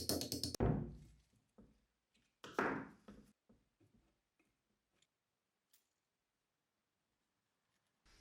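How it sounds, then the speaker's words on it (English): Prying at the stuck oil tank of a WW2 machine gun by hand: a few loud metallic scrapes and clunks up close, then sparse small ticks and taps fading into near silence. "Let's try and crack it open"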